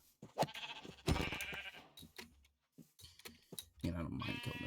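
Sheep bleat in the video game Minecraft, with short nasal calls popping up between bursts of a person talking close to the microphone.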